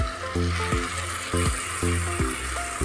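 Spice paste hitting a hot pan for Mughlai bhetki, a steady close sizzle of frying with repeated soft thuds and scraping, roughly every half second as the paste is stirred in; no talking.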